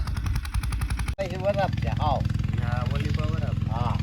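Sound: tractor running at the farm

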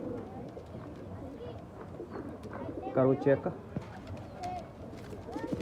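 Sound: pigeons cooing

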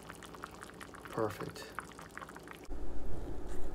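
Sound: Korean pork bone soup (gamjatang) bubbling in the pot

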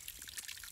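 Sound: field recording of gentle trickling water

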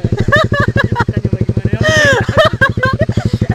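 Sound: Sonic 150 motorcycle with CLD Racing exhaust revving

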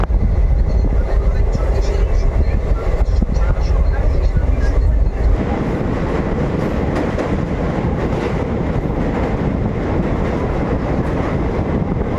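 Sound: Kanchanjunga Express train running

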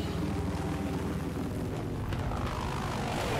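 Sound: helicopter approaching in video game Battlefield 4

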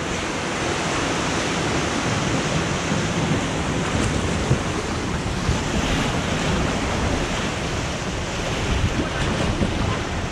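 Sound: water splashing on tub rafting ride

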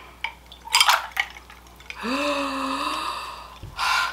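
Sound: pouring water into a glass

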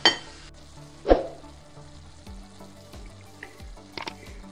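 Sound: minced meat frying with onions in sunflower oil

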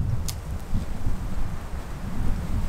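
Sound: wind

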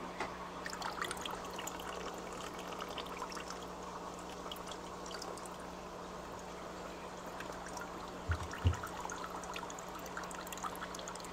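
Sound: water being poured

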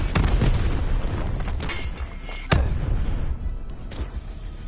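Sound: grenade explosion in a video game

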